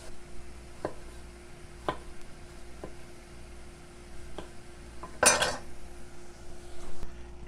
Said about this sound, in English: Tops off in half, and then again just a bit of a rough chop.